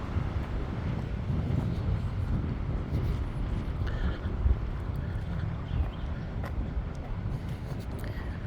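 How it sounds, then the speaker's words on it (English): Wind blows into a camera microphone while walking through a small town, a constant low rumbling buffet with occasional gusty bumps and no talk. "The wind is picking up and it's blowing right in my face. I know it's blowing in the camera"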